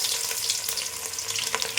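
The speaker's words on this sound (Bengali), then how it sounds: "জিরেটা একটু একটু নাড়াচাড়া করে একটু লালচে মতন হবে" Cumin seeds frying in hot oil while being stirred, a steady close hiss of sizzling with occasional soft scraping clicks, no voices.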